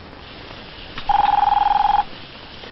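A telephone rings once in a room, a single loud trilling electronic burst lasting about a second, set against quiet background.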